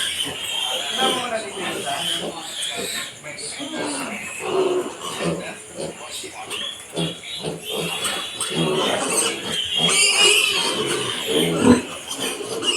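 Mother pig grunts in a pen, low snorts and grunts coming repeatedly at moderate distance, mixed with people talking and other farm noise throughout.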